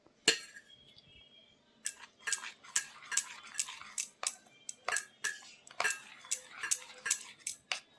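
A spoon clinks and scrapes against a bowl while Cerelac baby cereal is stirred into hot water, a quick run of close, bright taps, quiet overall, with no talking.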